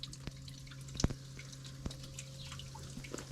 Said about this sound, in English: So that's the speed that I'm trickling in at.